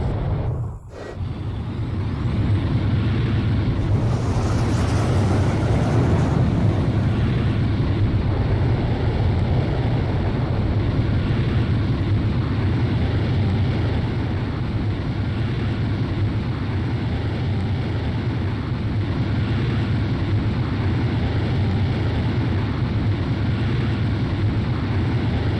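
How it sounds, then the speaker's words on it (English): Jet fighter launching off a carrier catapult in the video game Ace Combat 5: a sharp release jolt, then a long, loud, steady roar of engine thrust. "Blaze, you are cleared for takeoff."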